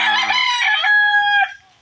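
A rooster crows loudly and close by at feeding time on a rainy day, one drawn-out call lasting over a second before cutting off.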